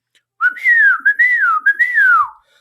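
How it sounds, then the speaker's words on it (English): A page's warning whistle in a nighttime graveyard scene from Romeo and Juliet: a loud, clear, solo human whistle with rising and falling glides, broken into three or four connected phrases lasting about two seconds. "So the page whistles."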